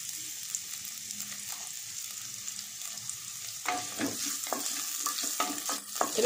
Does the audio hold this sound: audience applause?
no